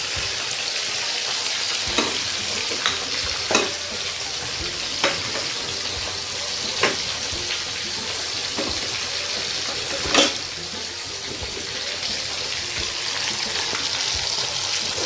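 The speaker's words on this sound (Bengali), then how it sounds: "এটাতে ভাজবো, হালকা ভাজবো, এটা খুব একটা ভাজবো না" Soft pomfret fish pieces fry lightly in a pan with a steady, close sizzle. Several sharp ticks and pops, and the scrape of stirring, cut through at irregular moments.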